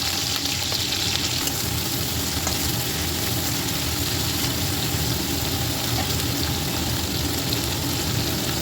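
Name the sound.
chopped onion frying in oil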